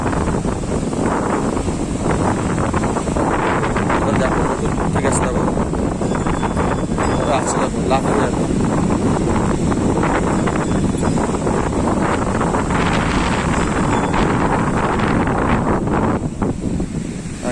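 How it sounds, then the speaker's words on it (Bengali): High tidal sea waves crash onto a beach in a loud, continuous roar, heavily buffeted by wind on the microphone, with voices talking over it. "জল দেখো কত উঁচু জল আসছে এখন পুরো জোয়ারের টাইম"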